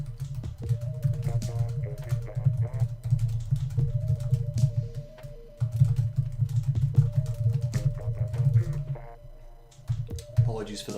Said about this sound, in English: Apologies for the thundering noises, that's my keyboard.